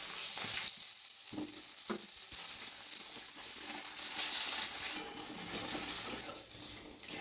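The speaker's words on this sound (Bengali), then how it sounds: "ওই তেলের মধ্যে বেগুনটাও ভেজে নেব।" Eggplant frying in oil in a home kitchen, a quiet, steady sizzling hiss close by, with a few faint taps and spatters breaking through and no one talking.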